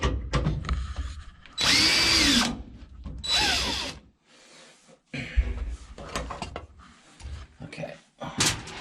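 A power drill whirs in several bursts while unscrewing the shift linkage from an old 200-4R transmission, loud and close. Short metallic clanks and handling noises fall between the bursts.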